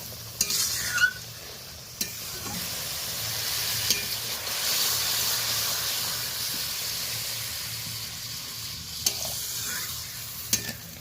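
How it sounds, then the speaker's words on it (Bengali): Hot water poured into a pan of frying pabda fish curry with eggplant and homemade lentil dumplings sets off a loud hissing sizzle that swells in the middle and fades, with a few clinks of the pan near and around it. "গরম জলটা দিয়ে দিলাম।"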